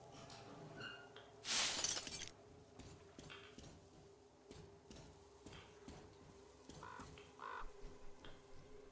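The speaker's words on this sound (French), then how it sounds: "Un corbeau apparemment." A crow caws in the video game Metro Exodus: a couple of short, faint calls come late, after a loud burst of shattering glass, over quiet ambient game noise and scattered clinks.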